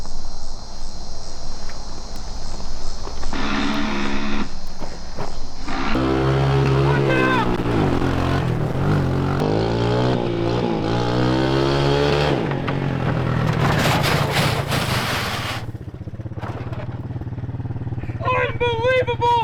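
Homemade three-wheeler's small engine revving hard while riding, rising and falling in pitch as it accelerates, loud and close, with people talking and shouting over it.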